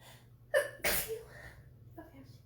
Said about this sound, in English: I'm gonna need to sneeze in a second